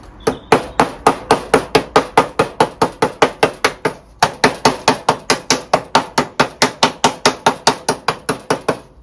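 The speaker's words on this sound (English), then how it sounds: "Simplest way for that is either a hammer like that" Pointed-tip hammer chipping old coating off a Bedford RL truck, delivering a long run of rapid, evenly spaced sharp metallic strikes, loud and close, with one brief pause midway.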